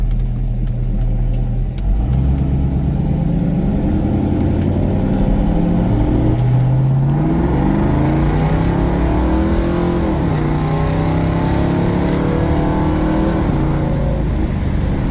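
A 1971 Ford Mustang Mach 1 with the 429 Super Cobra Jet V8 pulls hard in first gear, its loud, steady engine roar climbing in pitch as it accelerates, heard up close from inside the car.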